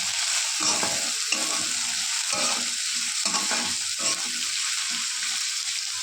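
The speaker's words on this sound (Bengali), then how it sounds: "দেখো ভাজা ভাজা হচ্ছে, দেখো কি সুন্দর ভাজা ভাজা হয়েছে না।" Chopped potato pieces fry in a pan, sending up a loud, continuous sizzle broken by bursts of stirring and scraping throughout.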